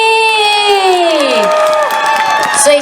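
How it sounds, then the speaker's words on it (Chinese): A crowd at a singer's album and concert-ticket signing event cheers and applauds, with loud rising whoops and shouts over a steady wash of clapping. "掌声鼓励！"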